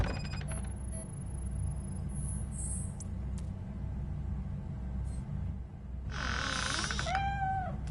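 A cat meows in the RoboCop: Rogue City video game, with a drawn-out cry and a rising call near the end, heard over a steady low game background hum.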